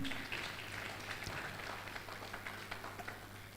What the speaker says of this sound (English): A round of applause for all the nurses in the house this morning.